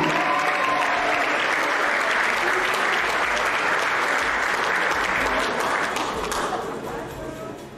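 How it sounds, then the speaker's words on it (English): Dense, loud audience applause fills a hall for a contestant at the Miss Samoa pageant, a steady wash of clapping that holds for several seconds and then gradually fades near the end. "let's give a big round of applause for your beautiful contestant number five"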